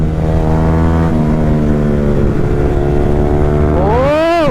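A Yamaha R15 V3 motorcycle on the move, its loud steady engine drone close to the microphone, rising in a sharp rev near the end.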